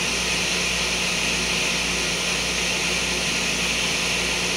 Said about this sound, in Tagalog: Ayan, aircon nya.